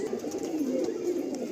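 A pair of Andhra Kalanka pigeons gives a low, soft rolling coo, close by and continuous over faint background noise.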